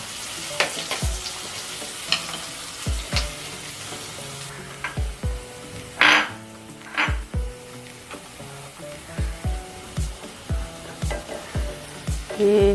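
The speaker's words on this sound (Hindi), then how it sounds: "कांदा अच्छे से चलाएंगे, थोड़ा सा इसको पका के फिर हम टमाटर डालेंगे इसमें।" Chopped onion fries in a pan at home with a steady soft sizzle, broken by a regular series of scraping, clanking knocks as a spoon stirs it, close and fairly clear with no talk.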